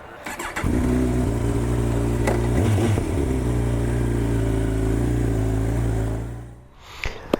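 A motorcycle engine starts and then runs loud and close, revving and droning through a sustained run with shifting pitch before fading away near the end.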